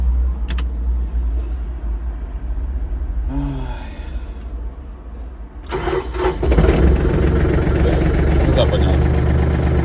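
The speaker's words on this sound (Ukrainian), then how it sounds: "Так, перше заводимо Янмар з кабіною." A Yanmar tractor with a cab cranks with a whirring starter and then catches, its engine roaring up loudly nearby and settling into a steady idle, with a brief voice over the start.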